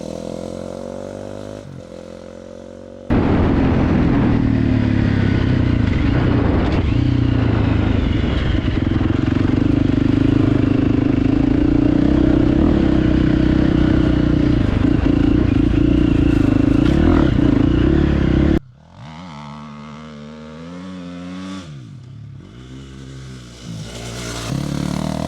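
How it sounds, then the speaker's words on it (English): A 2018 Husqvarna FE 350 dual sport motorcycle rides along with a steady, loud engine drone and rushing wind for most of the stretch, then drops to a quieter idle with rising and falling revs near the end. "ride some dual sport bikes"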